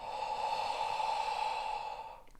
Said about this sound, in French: Vous allez faire une respiration qui est toute tranquille